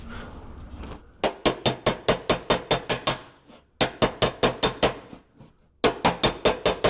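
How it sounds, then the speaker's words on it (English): Close, ringing metal-on-metal blows as a body hammer flattens a small crown in a car panel against a dolly, coming in three quick bursts of evenly spaced sharp slaps separated by brief pauses, with no voices. "We're going to slap that out."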